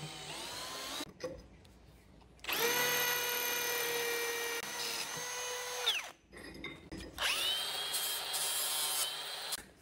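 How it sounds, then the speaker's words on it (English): A power drill boring a hole through the steel firewall of a rat rod in a garage, whining in long sustained bursts that rise and fall, separated by short pauses, loud and close. "So we'll just have to drill a hole in the firewall for that."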